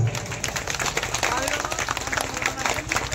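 A stage-play audience gives dense, continuous applause, a steady wash of many hands clapping under a speaking voice.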